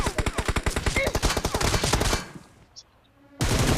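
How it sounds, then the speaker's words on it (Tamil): Rapid machine gun fire in a team deathmatch shooter game, a loud close burst of evenly spaced shots lasting about two seconds, a short lull, then another burst starting. "அந்த மிஷின் கன் அடிச்சா"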